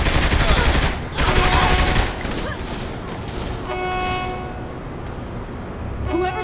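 Rapid sniper and automatic gunfire crackles through a firefight in the video game Saints Row 3, loud dense bursts in the first two seconds easing into lighter shots over a continuous game soundscape.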